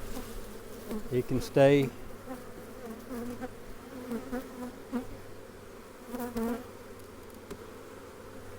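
Honey bees buzz around opened hives during a split at Taylor Yard, a soft steady hum beneath quiet close speech and a few handling noises, with one louder buzzing pass near the start.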